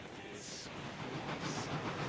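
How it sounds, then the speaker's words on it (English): Two locomotives haul a train car uphill at about eight miles an hour with no rear handbrake applied, giving a steady, moderately loud rolling rumble and rail noise that swells slightly toward the end. "if we can get these two locomotives to hold their own without a rear handbrake on"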